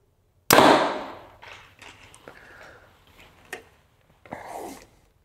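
A 2024 Hoyt RX 8 Ultra compound bow fires with one sharp, loud release crack followed by a fading buzz, then a few softer clicks and a last brief rattle.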